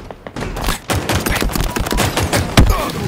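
Halo Infinite gameplay gunfire crackles in rapid automatic bursts, dense and close, with sharp loud shots punctuating a continuous stream of fire and no talk over it.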